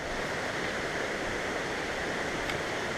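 A waterfall along a hiking trail gives a steady, loud, broadband rush of falling water that stays unchanged throughout, with no voices over it.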